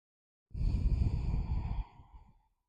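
A single deep, audible exhale during a yoga forward fold, close to the mic, breathy and sighing, lasting over a second and trailing off softly.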